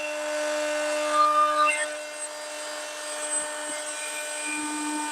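An oscillating multi-tool hums steadily against a tub of wet cement, a close, continuous high-pitched buzz with slight wavering in tone.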